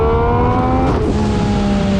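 A 2020 MV Agusta Brutale 800RC roars loud and close as its three-cylinder engine pulls hard in first gear, the steady rising drone carrying on without any voices.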